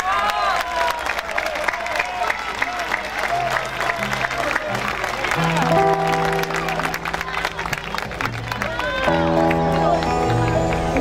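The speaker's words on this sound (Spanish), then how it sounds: "Sí les quiero pedir que la recibamos con un gran aplauso" Audience applause and cheering at a Valentine's Day stage show, steady crowd clapping and voices that run throughout, mixed with music tones, loud and continuous.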